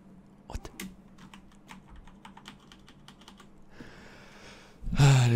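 Keys clatter on a computer keyboard in quick, irregular taps close by, followed by a brief burst of louder noise at the end.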